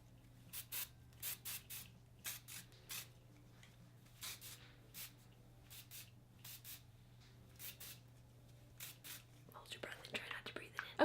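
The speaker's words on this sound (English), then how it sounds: "This is the Moneymaker Flexible Hold Hairspray by Dry Bar. So I just do a little bit of this." Dry Bar Moneymaker flexible hold hairspray is sprayed onto short hair in a rhythmic series of short, soft hissing bursts, close but quiet, ending in a longer rustle of handling.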